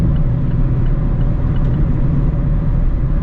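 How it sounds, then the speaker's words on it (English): Steady low rumble of road noise fills the cabin of a Mazda Miata RF hardtop cruising on the interstate, loud and continuous with no talking. "Now in terms of road noise here on the interstate,"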